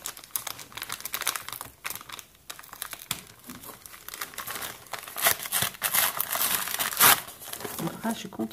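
Gift paper crinkles and crumples in steady rustling bursts for several seconds as scrap pieces are unwrapped and handled close up, with a brief voice now and then.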